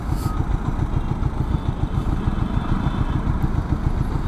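A twin-cylinder Royal Enfield Himalayan 400 motorcycle idles nearby with a steady, even, pulsing thrum and a faint mechanical clatter, heard alone without talk.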